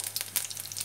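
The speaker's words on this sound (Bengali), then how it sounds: "আর রসুন আর গোটা জিরে ফোড়ন দিয়ে দিলাম।" Garlic and whole cumin seeds tempering in hot oil for a dhaba-style mutton curry, a steady close hiss of frying with a brief louder crackle, all in under a second.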